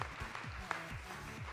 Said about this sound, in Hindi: एक बार जोरदार तालियां वेस्ट बंगाल को रिप्रेजेंट करने के लिए